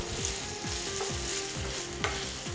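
Garlic, ginger and green peppers stir-fry in a pan for a Chinese mince dish, a steady close sizzle with rhythmic scraping and tossing strokes and a couple of sharp clinks, no talking.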